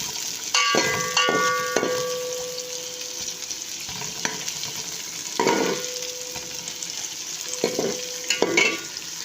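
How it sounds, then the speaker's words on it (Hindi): Onions sizzle gently in a little oil over a low flame, a soft steady frying hiss broken by intermittent stirring scrapes and metallic clinks of a utensil against the pan. "और इसके अंदर मैंने थोड़ा सा ऑयल डाला है क्योंकि प्याज हमारा ब्राउन हो जाए। हल्की हल्की आंच पे हम इन्हों को ब्राउन करेंगे।"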